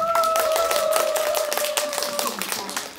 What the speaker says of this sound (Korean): 강사분 큰 박수로 모시겠습니다.